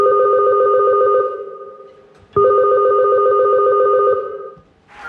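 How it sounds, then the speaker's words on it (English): A telephone ring sample played from a guitar through a Graph Tech Hexpander and Roland GR-55 synth gives two loud trilling bursts of ringing with a short gap between them, close and clear. "You can hear me using the Hexpander and the GRS55 phone sample."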